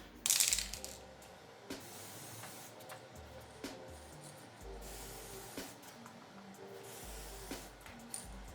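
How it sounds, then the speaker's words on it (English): A short, sharp hiss of tint sprayed from a can onto the taillights of a Chrysler 300C SRT8, followed by quiet rattles and light handling noises in a calm workspace. "This will make it easy for me to spray the tint."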